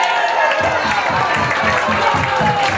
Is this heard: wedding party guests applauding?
yes